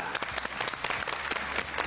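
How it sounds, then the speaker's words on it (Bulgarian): A studio audience on a Bulgarian television game show applauds in a short burst, with crisp overlapping claps at moderate level. "А сега да посрещнем с аплодисменти"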